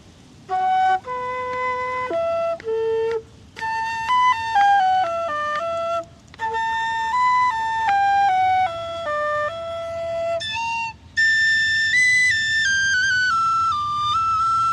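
A tin whistle plays a lively melody from an old Irish tune, a string of clear bright notes with short breaks between phrases, loud and close, no voices.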